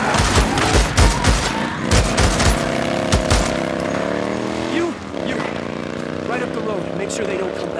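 Sharp bursts of rapid gunfire crack in quick succession in the video game Days Gone, then give way to a droning mechanical whine with a muffled voice underneath.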